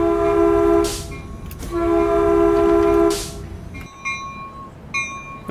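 A commuter train on the Peninsula Corridor in the Train Sim World 2020 video game sounds two long, loud horn blasts over a rumbling engine. Repeated bell-like dings follow.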